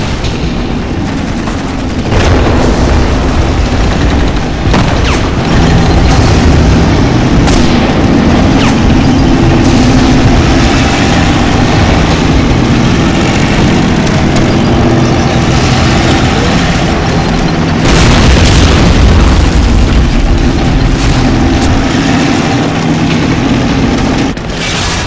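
Tank battle in the Men of War: Barbarossa war game, with Panthers engaging a T-34: sustained loud gunfire, machine-gun bursts and booming explosions, and heavier blasts rising near the start and again past the midpoint.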